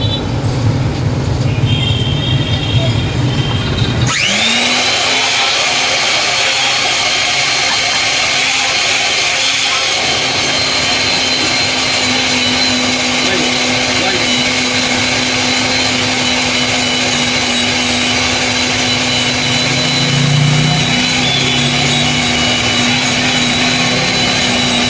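Coffee mix ingredients ground together in an electric grinder: after a quieter start, the motor abruptly kicks in with a harsh, loud, steady whirring grind that runs continuously for about twenty seconds.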